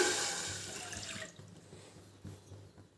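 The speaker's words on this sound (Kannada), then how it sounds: "ಎರಡು ಗ್ಲಾಸ್ ನೀರು ಹಾಕಿದ್ದೀನಿ" Two glasses of water poured into a cooking pot for ragi ambali, a short faint splash and trickle that fades within about a second, leaving quiet kitchen background with a few soft knocks.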